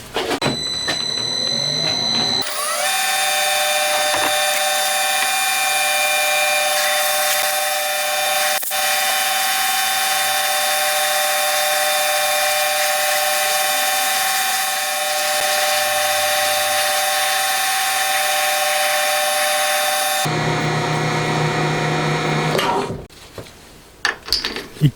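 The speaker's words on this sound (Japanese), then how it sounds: "そしたら突っ切りで切っちゃうと。" A lathe parting tool cuts off valve guide stock with a steady, continuous machining whine that runs for most of the clip. The cut ends abruptly near the end, leaving a few clunks.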